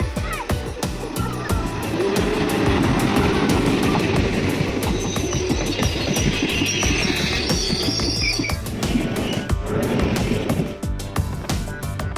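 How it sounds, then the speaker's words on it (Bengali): The Kamrup Express passenger train runs on rails at night, a loud steady rumble with rhythmic clicking of wheels over track joints, close and continuous. "আমরা এবার যাত্রা করেছিলাম কামরূপ এক্সপ্রেস থেকে। রাতের ট্রেন"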